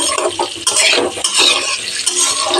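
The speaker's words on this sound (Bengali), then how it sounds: "নেড়ে দিলাম।" Potatoes being stirred as they fry in a pan, busy scraping and clinking of a utensil over a loud, close sizzle, with no voices.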